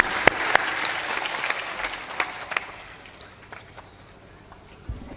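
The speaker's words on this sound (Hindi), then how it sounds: "ताली बजा दो" Audience clapping at a devotional Hindi discourse, steady applause strongest at the start and fading gradually over five seconds, with a few sharp claps standing out.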